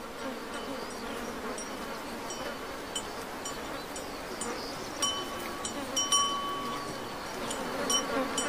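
Steady insect buzzing of mosquitoes swarming in the Siberian taiga along the Lena, a continuous faint drone with a few brief closer whines passing by, no voices.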